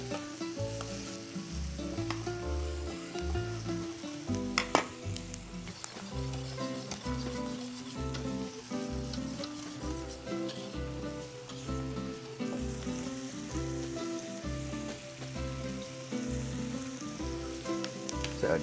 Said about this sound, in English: I like to saute the onions a little bit.